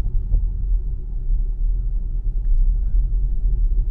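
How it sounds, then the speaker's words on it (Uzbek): A Volkswagen ID.6 seven-seat electric car accelerating, heard as a steady, low road and cabin rumble that holds evenly throughout without distinct peaks. "Shuning uchun gaz bosganda oldini bir ko'tarib sal itarib yuradi"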